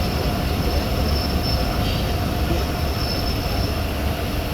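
The Subak Raftar railcar runs on rails, a continuous loud rumble of wheels and carriage noise heard from inside, steady and unbroken with no voices.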